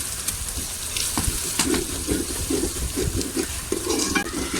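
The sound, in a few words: ginger paste frying in a pan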